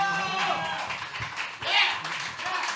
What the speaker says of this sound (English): Crypto Monday San Juan, let's get a round of applause